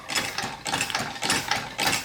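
A small steam engine with a big stainless valve and a heavy flywheel, running at over ten pounds of pressure, chuffs in a steady rapid rhythm of repeated mechanical clatters, loud and close, with no one speaking.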